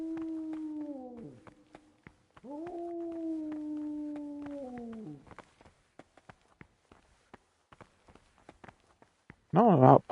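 Dogs howl in the medieval role-playing game Kingdom Come: Deliverance, two long, drawn-out howls in the first half, followed by quiet footsteps and clicks and a brief yelping burst at the end.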